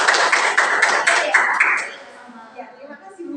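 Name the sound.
classroom applause for Salma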